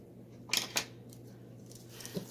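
Scissors snip off a piece of material while a finished cross stitch is being framed: two quick close cuts in a row, then a faint soft rustle in a quiet room.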